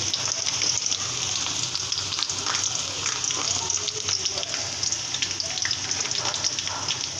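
Onion and garlic fry in a pan for a Malabar spinach stem bhaji, a steady, close, dense sizzle with fine crackling and spatter that holds evenly throughout.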